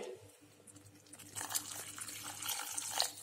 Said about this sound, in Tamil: அடுத்து இந்த கிரேவிக்கு தேவையான தண்ணீர்.